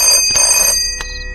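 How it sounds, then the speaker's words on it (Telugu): A telephone rings for an incoming call, a bright electronic tone that is loud and close, sounding in two short bursts. "మీ వాడెవడో పొద్దున్న నుంచి ఫోన్ చేస్తున్నాడు."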